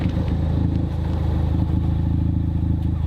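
A 2015 Ford Focus ST fitted with a Cobb exhaust idles steadily nearby, a loud continuous low engine drone with a fine rhythmic pulse and no revving.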